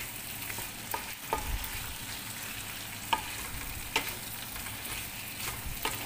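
Chicken curry fries in oil with a constant low sizzle, as a spoon stirs it with a few scattered scrapes and taps, heard close with no talking.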